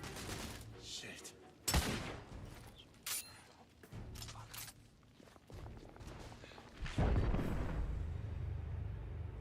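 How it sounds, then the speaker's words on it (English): Artillery fire in a horror video game, a series of sharp booming blasts with rumbling, gunfire-like bursts, the heaviest barrage near the end. "The artillery."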